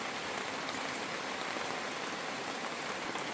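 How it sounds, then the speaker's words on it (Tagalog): Heavy rain from a storm pours steadily, a dense continuous hiss of drops hitting surfaces nearby, with no breaks and no voices. "Ang lakas ng ulan, no?"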